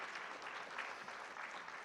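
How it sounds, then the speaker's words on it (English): An audience at an education technology awards event applauds for sponsors, a short burst of fairly faint, even clapping lasting under two seconds. "we'll ask you to please acknowledge them with an applause when I go through them"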